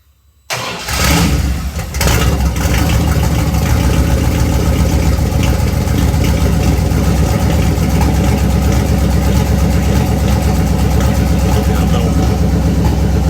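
A fuel-injected car engine nicknamed Mr. Jones cranks and catches from cold about half a second in, then settles into a loud, steady idle that runs unbroken to the end.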